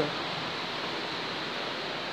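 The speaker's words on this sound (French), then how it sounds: "cascade." A waterfall cascades steadily, heard as an even, broadband rushing hiss that is continuous and unchanging, with no voices over it.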